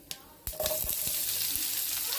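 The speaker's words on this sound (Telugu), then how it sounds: "చూడండి పోపు బాగా వేగింది." Tempering for Andhra gongura chutney frying in hot oil, a steady close sizzle starting after a couple of sharp pops, with a few crackles and scrapes through the continuous hiss.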